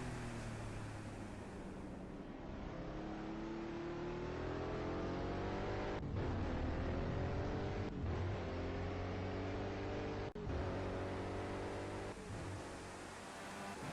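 An Indycar engine at Laguna Seca accelerates hard out of a corner, its loud, close whine climbing steadily in pitch through repeated gear-driven sweeps, with brief dips between pulls, over a continuous rushing roar.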